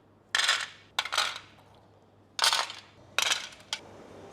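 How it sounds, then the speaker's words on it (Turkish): Almonds drop into dessert bowls for an almond keşkül milk pudding: four or five clusters of sharp, light clicks and rattles up close, separated by short pauses, in a quiet room. "içerisine bademlerini koyacağım. Eşitlik benim için önemli. Her kaseye aynı eşitlikte badem gitmeli."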